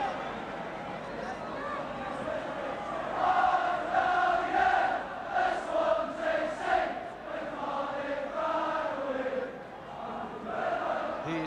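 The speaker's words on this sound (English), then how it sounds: "The Swansea crowd really making their presence felt here as Edvaldsen takes this throw. Really making a good noise." A football crowd at the Swansea stadium during a Wales v Iceland match gives a sustained roaring chant that swells and falls, with a voice talking over it.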